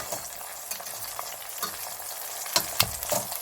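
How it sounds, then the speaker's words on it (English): Eggplant slices fry in a pan for a Sicilian vegan pasta dish, giving a steady close sizzle broken by a few sharper crackles and scraping taps near the end. No one speaks. "flip them over and let the other side cook"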